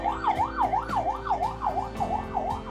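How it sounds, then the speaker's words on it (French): An ambulance siren wails past in a fast, regular up-and-down yelp, about nine even cycles, moderately loud over the hum of traffic. "il y a une ambulance qui est en train de passer là"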